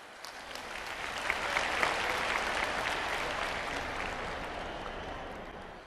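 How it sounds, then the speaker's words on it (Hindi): Sustained applause from a crowd at a public event in Madhya Pradesh, a dense wash of clapping that swells slightly and holds steady for several seconds, heard at a distance. "आप सबकी जोरदार तालियों के बीच"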